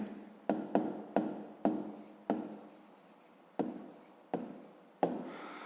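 A pen scratches on paper in short strokes, about nine quick bursts each fading out, close and quiet, as a math answer is written out by hand with no talking.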